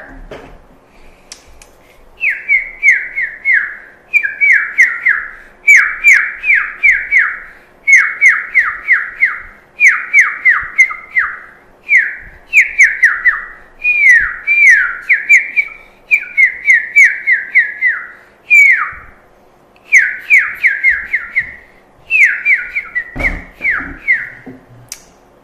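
A person whistles a string of short, bright chirping phrases imitating a bird call, repeated steadily in quick bursts with brief gaps, loud and close, alone without talk.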